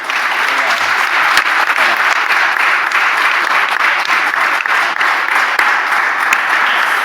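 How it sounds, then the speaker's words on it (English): Sustained applause from a live talk audience at a climate event, dense and steady across the whole stretch with no speech on top. "So a massive round of applause for all of our speakers"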